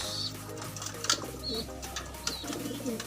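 Several pigeons coo close by in overlapping rounds, with a few brief chirps and a constant low background hum.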